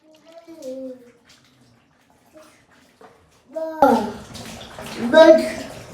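Cassava and arrowroot being washed by hand in water at a village home, with splashing and sloshing in bursts under a person talking.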